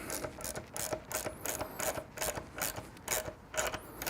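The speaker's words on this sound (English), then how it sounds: "Use our 12mm wrench." Twelve-millimetre wrench tightening an exhaust bolt on a Triumph Bonneville motorcycle during a carbon muffler install: repeated close ratcheting, rasping metal strokes in a steady rhythm, with no talking.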